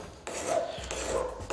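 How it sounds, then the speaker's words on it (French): A hand file scraped along the metal edge of a new ski in two close, distinct rasping strokes, each a short gritty scrape with a faint metallic ring. "Donc on peut le faire avec une lime,"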